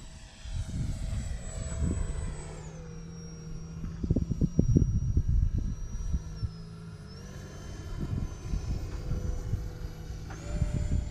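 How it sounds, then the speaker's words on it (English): An X-2100 jet-powered RC glider with a 64 mm electric ducted fan flies overhead, a steady high whine shifting pitch as throttle changes, over heavy wind buffeting close to the microphone. "That 64 sounds so good in this plane."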